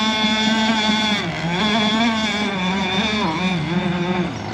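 A radio-controlled gas boat with a Zenoah 26cc two-stroke engine holds a loud, close, steady buzzing drone at half throttle, its pitch wavering slightly up and down throughout.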